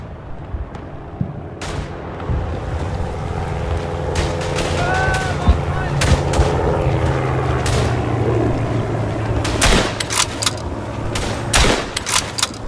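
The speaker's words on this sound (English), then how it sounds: "Gonna shoot all the guys who are trying to flank towards the gas cloud." Gunfire and artillery in the Verdun video game on the Flanders map, with scattered sharp shots and bursts over a steady rumbling battlefield din, carrying on across the whole stretch at moderate loudness.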